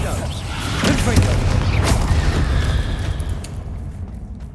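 Confringo and Bombarda spell blasts from the Hogwarts Legacy video game go off in quick succession, deep booming explosions with crackling bursts that swell and then fade into a long rumbling tail.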